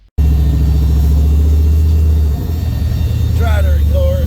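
Loud, close rumble of a turbocharged LS-swapped Mustang engine, a steady low throb that dips slightly partway through, with a voice briefly heard near the end.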